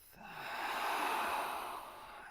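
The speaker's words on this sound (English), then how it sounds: "Exhale out through the mouth" A single long exhale through the mouth during a yoga flow, a soft, breathy sigh that swells and fades over about two seconds, close to the microphone with no talk over it.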